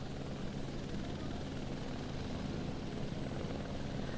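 Several rescue helicopters at the ITBP helipad in Matli, Uttarkashi, during a disaster rescue operation: a steady, continuous rotor and engine roar that fills the whole stretch at an even level with no speech.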